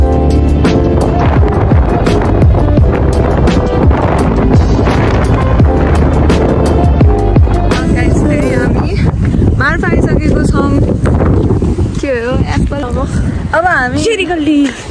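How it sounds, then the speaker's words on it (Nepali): Strong wind blows outdoors in Mustang, buffeting the microphone with loud rumbling gusts, first over loud music and then beneath a person talking. "यहाँ कति हावा चलिरहेको गाइस"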